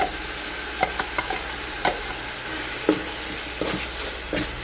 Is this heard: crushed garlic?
yes